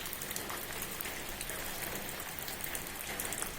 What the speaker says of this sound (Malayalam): ഇതൊക്കെ മഴവെള്ളം തുള്ളി കളിക്കുന്നത് പോലെ തന്നെ